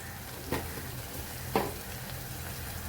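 Tomatoes sautéing in a pan with turmeric added, a steady soft sizzle with two brief scraping stirs.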